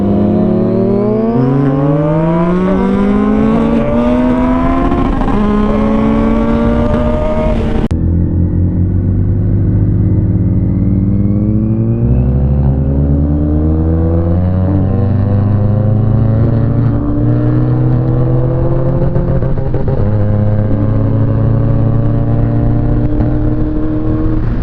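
A motorcycle carrying a passenger roars loud and close as its engine revs through rising and falling pitch sweeps during wheelies, then settles into a deeper, sustained throaty drone after a sudden shift.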